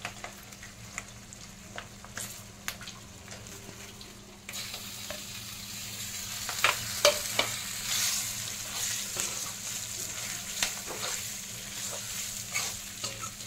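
Chopped tomato drops into spices frying in a pan, the sizzle swelling louder after it goes in, with repeated scraping stirs and soft clatter throughout.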